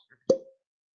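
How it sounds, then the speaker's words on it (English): A cork pops from a Found North single barrel whiskey bottle, a single sharp hollow plop heard up close in an otherwise quiet room. "Cork pop."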